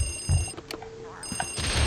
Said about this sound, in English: Can I pick up the phone, please?